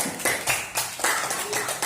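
A class of schoolchildren claps hands together in a classroom, a few quick rounds of group claps in rhythmic bursts, moderately loud and close.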